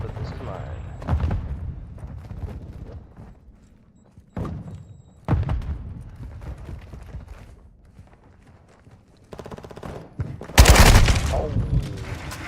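Bursts of AK rifle fire in a Modern Warfare match, short loud volleys with a sharp close crack near the end, separated by quieter stretches, while a voice talks over the game.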